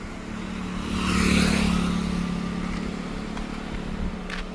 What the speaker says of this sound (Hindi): तो ये कुछ इसका इंजन का साउंड।